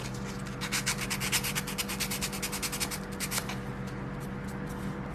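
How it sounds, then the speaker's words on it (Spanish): A piece of a wooden Dilophosaurus skull model kit is sanded by hand in steady rapid rasping strokes that stop partway, close and fairly quiet over a low background hum. "Y también lijaré un poco la pieza central del cráneo"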